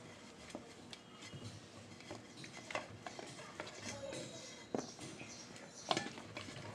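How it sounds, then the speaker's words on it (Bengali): Chopped winter vegetables tumbling into a cooking pot for a village-style loitta dried-fish dish, with scattered clinks, soft thuds and spoon taps against the metal at a moderate, close level. "ডেক্সিটা নিলাম এখানে আমি এই যে সবজিগুলো একসাথে দিয়ে দিচ্ছি"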